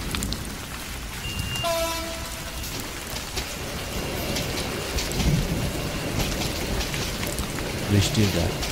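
Rain and thunder on a dark rainy night as a cartoon sound effect, a dense steady downpour hiss with rolling thunder rumbles, a short horn-like tone early on, and no voices.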